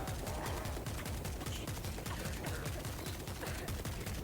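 Rapid gunfire from the World War Z video game plays as a steady, dense stream of shots throughout, fairly quiet and continuous with no pauses.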